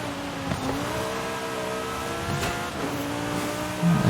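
A race car with rally tires on a seasonal championship race in Forza Horizon 5. The engine drones steadily and loudly with shifting harmonic tones, with brief rises in revs and a short burst of tire noise near the end. No voices are heard.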